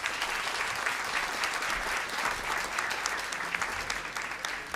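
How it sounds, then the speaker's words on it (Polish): An audience at a concert applauding the evening's sponsors, sustained dense clapping from a large crowd, even and continuous without a break. "Podziękujmy im brawami."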